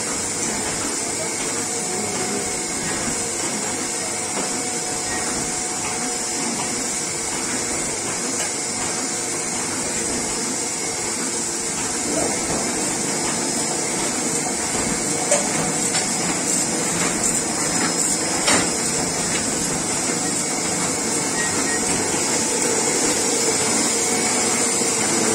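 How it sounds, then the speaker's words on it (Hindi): A Solna 125 printing machine runs in a steady, loud mechanical drone with faint rhythmic clatter throughout, no voices present. "मशीनरी के दो कार प्रिंट हो रहे हैं।"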